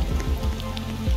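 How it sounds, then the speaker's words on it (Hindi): Heavy rain falls in the Roblox Brookhaven game as a steady patter of drops on surfaces, close and loud for a short moment, with no voices. "सुबह तक ये बारिश खत्म हो जाएगी"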